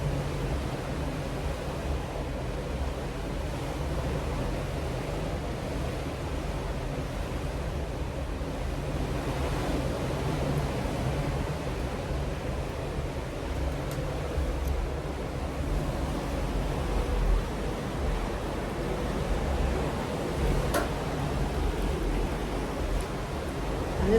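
Open sea water and waves heard from the deck of a cruise ship on a hot day at sea, a steady broad wash of surf and wind noise with no talking.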